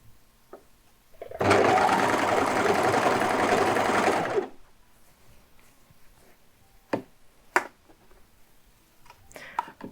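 A sewing machine stitches the side seam of a garment in printed fabric, one steady loud run of about three seconds, then stops, leaving a few faint clicks and handling noises.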